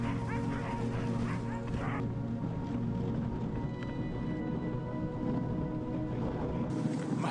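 Huskies waiting for a sled ride in snowy Lapland bark and yip constantly, a noisy chorus of overlapping barks and whines with a person's voice faintly mixed in.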